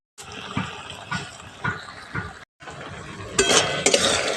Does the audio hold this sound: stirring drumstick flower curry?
yes